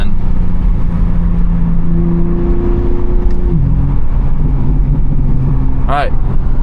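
A tuned BMW G80 M3 accelerates with a loud, continuous engine drone and rising tones from inside the cabin, a brief whine near the end, with a voice present.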